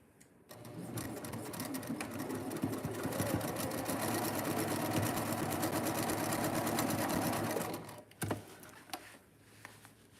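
A sewing machine runs a seam in one continuous rapid stitching burst of several seconds, close and steady, then stops, followed by a few clicks and handling sounds.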